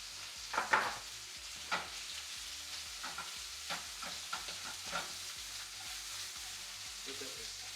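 Rice for risotto goes into a hot pan and sizzles steadily, with a series of stirring scrapes and soft knocks spaced about a second apart, close and moderately loud.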